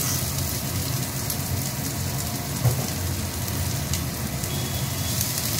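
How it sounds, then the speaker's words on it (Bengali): Chopped onion goes into hot oil that already holds fried garlic and dried chilli, giving a soft, steady sizzle that stays low and even with a small pop partway through. "কেটে রাখা কুচি করে পেঁয়াজ, এটা আমি দিয়ে দিচ্ছি।"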